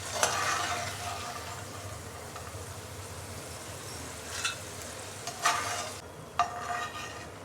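Potato pieces frying in oil give a steady, moderately loud sizzle that runs throughout, broken by a few sharp clinks of stirring or lifting near the end.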